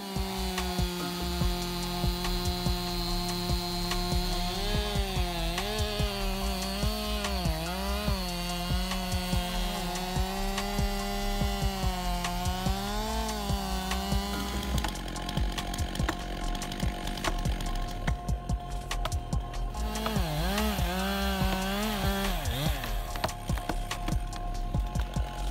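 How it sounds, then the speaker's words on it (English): A chainsaw runs continuously through giant tree trunks, its engine droning and wavering in pitch as it bites and revs, loud and close throughout with no voices. "This chainsaw was a marvel of engineering, defying all expectations by effortlessly cutting through giant tree trunks at unprecedented speeds"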